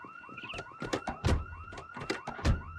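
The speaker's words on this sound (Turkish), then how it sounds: "Alarm çaldı bir yerde." A car alarm blares in the zombie-survival game Project Zomboid, a repeating electronic pattern with steady pulses and a sustained high tone, loud and continuous across the whole stretch with no talking over it.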